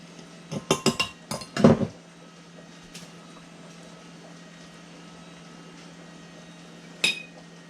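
Glass canning jars clink sharply several times in a quick cluster as lemon juice is added for canning tomatoes, then fall quiet before one last clink.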